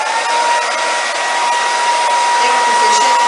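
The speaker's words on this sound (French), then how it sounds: "on prend un petit sèche-cheveux et" A small hair dryer blowing on a painted Easter egg, a loud steady whine and rushing airflow held evenly from start to finish, close to the listener.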